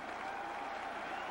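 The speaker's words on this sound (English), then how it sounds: "a sellout crowd cheers their Thundering Herd" A sellout football crowd in Huntington cheers its Marshall Thundering Herd at the end of the third quarter, a steady dense roar of applause and cheering filling the stadium from start to finish.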